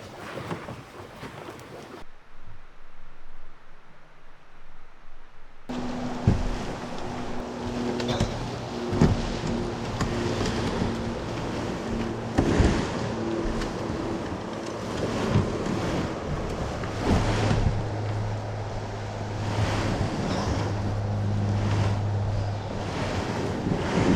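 River water on the Rock Castle River in Kentucky during a paddle: a steady broadband rush of flowing water mixed with wind buffeting, briefly dropping near silent early on before returning, with no talk.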